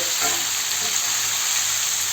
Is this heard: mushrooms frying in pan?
yes